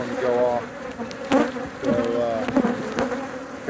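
Honey bees from an exposed hive swarm defensively after its branches are trimmed away, a dense continuous buzz with rising and falling wing tones close to the mic, with sharp knocks breaking through now and then.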